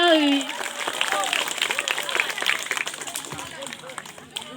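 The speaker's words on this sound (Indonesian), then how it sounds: "Tepuk tangan dulu untuk saya." Classmates clap in a junior high classroom after a student's presentation, a loose scattering of hand claps mixed with chatter and voices, moderately loud and uneven.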